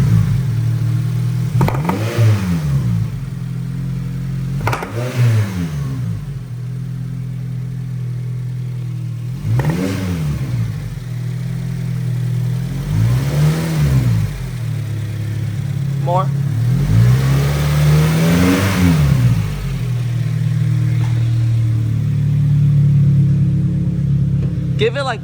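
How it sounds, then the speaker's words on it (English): A Mitsubishi Lancer Evolution's engine is blipped repeatedly in a garage during a fault check, with about six sharp revs rising and falling over a steady idle while people talk nearby. "Can you go give the cars a few revs?"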